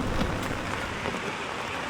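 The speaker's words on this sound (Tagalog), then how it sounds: "Kasi umuulan." Rain falls outdoors at a bus stop, a steady broadband wash with scattered patters, fairly loud and continuous, with no voices.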